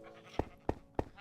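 Minecraft sheep give three short, evenly spaced bleats in quick succession, close and clear over a quiet background.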